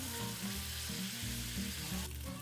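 Hakka-style pork stir-fries over medium heat on an induction cooker, giving a steady, close, soft sizzle and crackle with faint scraping of the pan, no voices.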